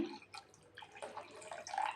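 Water is poured into a pot of brinjal curry in a soft, uneven splashy stream, faint and close, with small trickles and drips.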